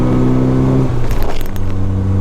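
A Lada Riva classic car gives off a brief metallic rattle partway through, close and fairly loud over the steady hum of its idling engine, with no talking.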